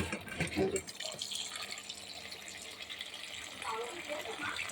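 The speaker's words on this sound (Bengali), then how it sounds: "এদিকে মাছটা আমি এখন ধুয়ে নেব মাছটা ধুয়ে নিচ্ছি" Fish being washed in water, with splashing, trickling and dripping sounds mixed under a person talking.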